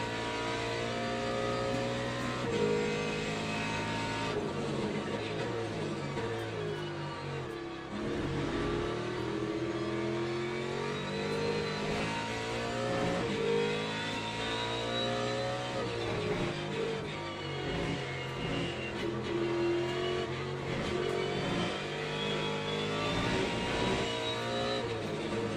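Race car engines in a racing video game on the final lap, a continuous loud, close engine roar with rising and falling revs and gear changes that carries on for the whole stretch without talk.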